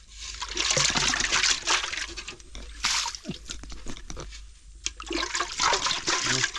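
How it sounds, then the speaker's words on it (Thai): Wild mushrooms are washed in water outdoors on a forest trip, with steady running, trickling and sloshing water that swells and eases over several seconds, close and fairly loud. "มาล้างเห็ด"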